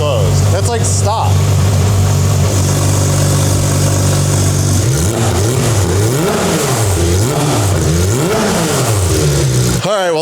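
Exhaust of a Porsche GT3 RS with its valves switched between open and closed, a loud close engine droning then rising and falling in repeated revs, while a voice talks over it throughout.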